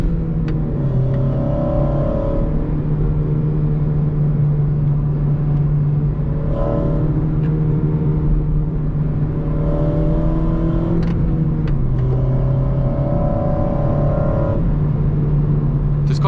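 A 2008 Honda Civic Mugen Si's exhaust drones loud and close while driving, its engine note climbing and dropping repeatedly as it revs through gears, with no talking.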